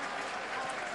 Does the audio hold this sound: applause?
yes